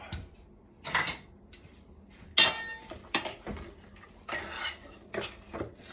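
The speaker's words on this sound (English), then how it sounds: "so mix up the salmon with the seasoning I put on it." Salmon being mixed with seasoning in a dish for curry salmon, with intermittent clinks and scrapes of utensils against the dish in short bursts separated by quiet gaps.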